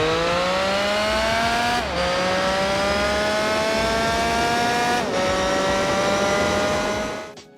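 BMW M3 GTR race engine in Need for Speed Most Wanted, revving loud and continuous through several gear changes with brief dips as each shift lands, ending in a fade.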